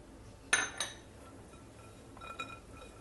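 A utensil clinks against a glass bowl while stirring blueberries, walnuts, yeast and water for blueberry walnut bread: two sharp close taps, then a softer clink later, in a quiet room.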